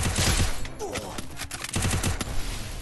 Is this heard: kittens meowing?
no